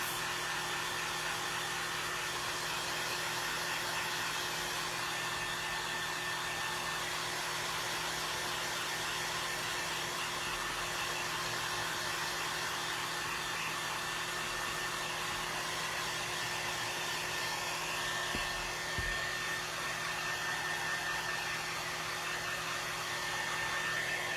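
A handheld craft heat dryer blows steadily over wet paint on a whimsical flag craft piece, a constant loud airy roar with a faint whine, continuous for the whole stretch with no talk.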